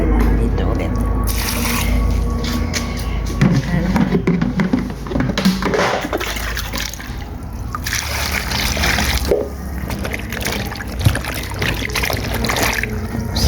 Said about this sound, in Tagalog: Hinugasan ko na ito, pangalawang hugas ko na lang dito ulit.